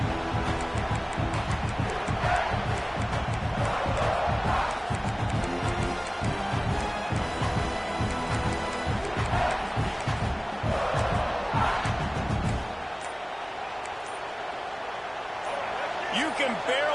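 Roaring stadium crowd in an NCAA 26 college football video game, a dense, loud sustained wall of cheering with swelling chants, dropping abruptly to quieter ambience near the end, with announcer commentary over it.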